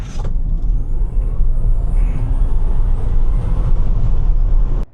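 A sports car launches hard from a standstill during a 0-60 mph acceleration run, its loud, steady engine and road roar filling the cabin at close range without a break and cutting off abruptly at the end, with no talk over it.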